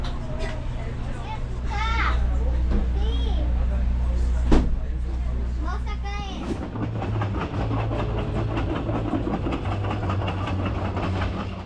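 Ride on a crowded passenger train out of Ollantaytambo: a steady rolling rumble with clickety-clack running throughout, under chatter from passengers, with a sharp knock midway.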